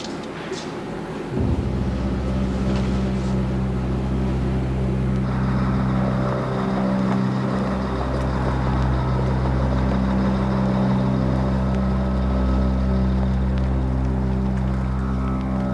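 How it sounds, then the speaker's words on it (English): A car engine runs at a steady low idle, a continuous deep hum with a brief shift early on, while people talk faintly over it. "You better cut the engine."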